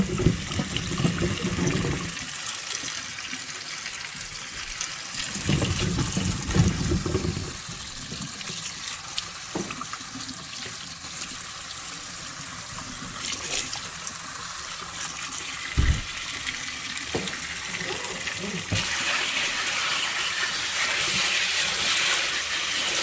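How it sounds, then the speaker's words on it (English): Tap water running and splashing while jalapeno peppers are rinsed, a steady stream with intermittent gushes and small knocks, moderately close. "You rinse your peppers really well."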